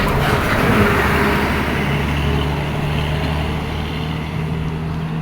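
Busy city street traffic rolls past a pedestrian walking along the roadside, with cars approaching from behind as a loud continuous roar and engine drone that slowly fades a little.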